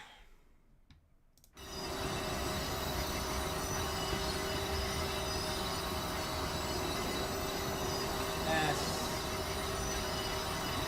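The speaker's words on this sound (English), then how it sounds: "This thing is a heck of a lot louder than the other 2 trains we were just driving." A train driven in Train Simulator 2022 roars loudly and steadily, a dense rumble with wheel squeal that starts abruptly after a brief quiet moment and holds on without a break, with no talk over it.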